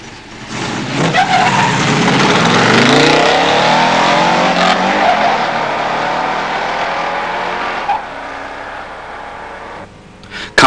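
A 1971 Plymouth Cuda 340 automatic and a 1971 Dodge Demon 340 four-speed launching in a drag race, loud engine roar and tire squeal near at first, the sound then fading slowly into the distance.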